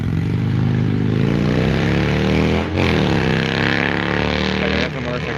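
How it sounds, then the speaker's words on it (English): A motorcycle passes nearby on a street in Del Rio, Texas, its engine note rising and falling in a smooth sweep, loud and continuous, with people chatting underneath. "That's a motorcycle."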